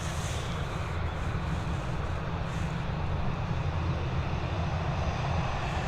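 An Air France Airbus A320 jet departing Dublin Airport for Charles de Gaulle gives a loud, even engine roar with a strong low rumble, steady and uninterrupted, without voices.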